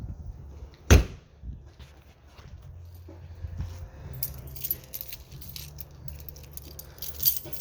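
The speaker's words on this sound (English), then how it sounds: "My keys again." Keys jangle in a short, loud metallic burst near the start, then fainter rattling follows against a quiet outdoor background beside a 2022 Keystone Cougar 26RBS travel trailer.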